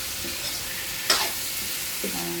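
Chicken liver sautéing in a pan for chopsuey, a soft steady sizzle with a brief louder scrape of stirring midway and faint clinks near the end, no talking.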